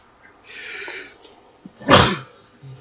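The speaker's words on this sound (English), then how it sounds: "It's 2 minutes in and I already sneezed." A single sharp sneeze bursts out close and loud, preceded by a faint hissing intake of breath, in a quiet setting during a YLands game session.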